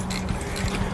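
A ratchet loosens a Yakima BackRoad 4 bike rack, giving a steady, fast mechanical clicking at close range for about a second.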